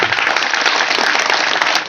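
Applause from an audience at a Nyepi-eve Ngembak Geni gathering at a Hindu temple in Nganjuk, a dense, steady wash of clapping lasting about two seconds with no talk.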